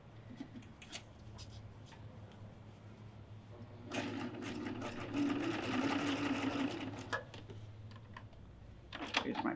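An overlock serger stitches fabric for a pillow, its steady mechanical whirr starting partway through and running for a few seconds before stopping, up close over a low background hum.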